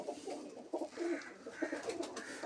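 Domestic pigeons, including pink-breasted birds, coo in soft, throaty, repeated bursts close by, with rhythmic low calls over faint background noise and no speech.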